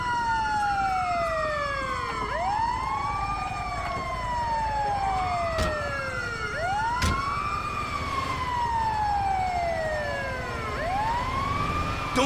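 A wailing ambulance siren in Grand Theft Auto 5 sweeps up and down in repeated rising and falling cycles, loud and continuous, with a couple of sharp bangs cutting through.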